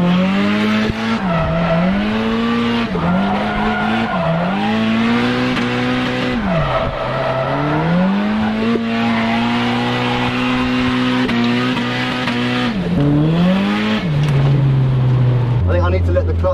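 A Nissan S15 drift car at a drift day revs hard in repeated rising and falling bursts, the engine loud and close, with tire squeal mixed in and a voice talking over it; the clutch is slipping.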